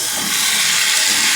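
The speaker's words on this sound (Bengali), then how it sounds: "ভালোভাবে একটু সময় ভেজে নেব, লাল করে একটু ভেজে নেব।" Potatoes frying in oil with turmeric and salt make a loud, steady, close hiss of sizzling that runs unbroken throughout.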